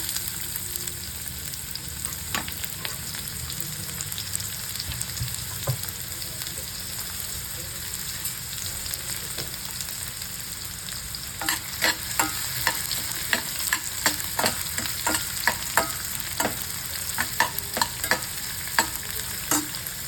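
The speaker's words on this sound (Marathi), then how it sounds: "मोहरी घालायची थोडीशी जिरे घालायचे आणि इथं कट केलेला कांदा आहे तो घालायचा" Mustard seeds, cumin and chopped onion frying in hot oil for a ridge gourd bhaji, a steady sizzle with scattered crackles and popping that grow denser in the second half.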